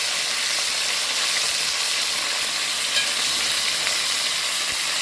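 Oxtail pieces browning in a small amount of oil in a pot give a steady, close, even sizzle and crackle with no talking, holding a constant level throughout.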